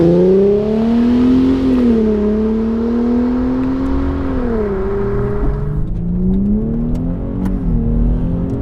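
A modified Infiniti G37 coupe in manual sport mode accelerates hard, its engine note climbing loudly and steadily through the revs, then dipping at a paddle shift and rising again, heard from inside without talk.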